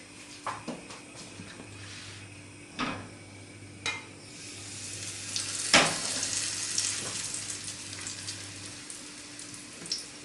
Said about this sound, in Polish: I smażymy z jednej i z drugiej strony.